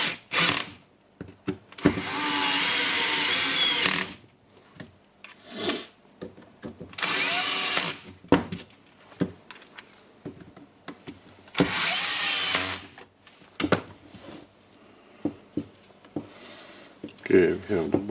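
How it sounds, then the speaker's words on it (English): A power driver runs screws into the housing of a big Dewalt impact wrench under repair, several whirring bursts of one to two seconds each, separated by pauses with clicks, handling noises and brief talk. "I will try to screw the screws here."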